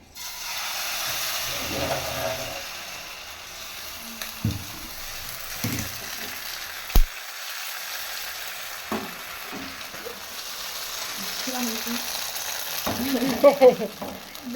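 Batter for pati shapta pitha, a sweet filled pancake with jaggery and coconut, sizzles softly in a pan, a steady close hiss with occasional clinks and scraping of a utensil.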